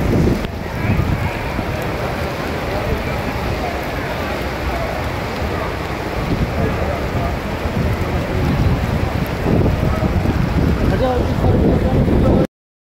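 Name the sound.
heavy downpour of rain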